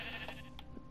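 A video game sheep gives a short, faint bleat, a brief wavering cry with no other sounds around it.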